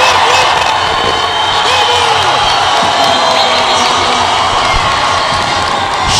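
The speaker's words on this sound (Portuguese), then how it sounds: "Chega a fazer eco o barulho enfurecedor da torcida" A loud gym crowd cheers and shouts throughout a volleyball final as a team enters the court with children and balloons, the roar echoing steadily for several seconds, with whoops and children's yells on top.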